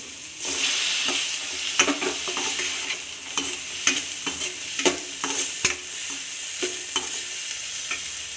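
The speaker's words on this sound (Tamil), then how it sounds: "தக்காளி கொஞ்சம் பொன்னிறமாக வரட்டும், கொஞ்சம் நல்லா வதங்கட்டும்." Tomatoes and peas sizzle steadily in a hot pan while a utensil stirs and scrapes at irregular intervals, up close with no talking.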